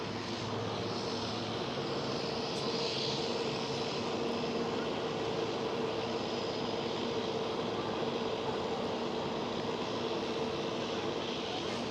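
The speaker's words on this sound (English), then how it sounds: "There is the next Transavia A321neo, while EasyJet A320 is lined up on the runway." A Transavia Airbus A321neo jet airliner at Amsterdam Schiphol airport makes a steady, distant rumbling hum that holds evenly throughout without any break.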